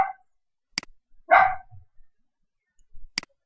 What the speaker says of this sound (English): Those are my dogs, alright? So bear with me as I have to bear with them.